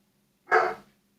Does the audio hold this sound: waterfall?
no